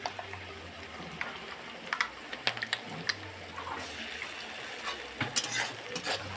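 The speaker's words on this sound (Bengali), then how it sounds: "পেঁয়াজটা ভাজা ভাজা হয়ে গেলে আদা রসুন পেস্ট দিয়ে দেব" Ginger garlic paste frying with onions in hot oil, a soft continuous sizzle broken by scattered clicks and scrapes of a spoon stirring the pan, fairly quiet and close.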